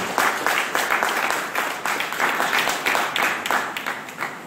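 Church congregation applauding during a worship service, sustained clapping from many hands with a slightly uneven, pulsing rhythm, fairly close and loud throughout.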